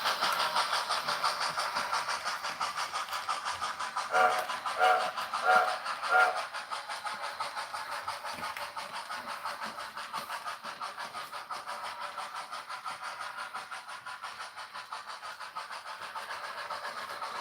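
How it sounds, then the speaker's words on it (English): A model freight train with a Bachmann steam locomotive runs along the layout track with a steady, close, whirring rattle, and a few brief whistle toots come partway through. "We're going to highball this freight train."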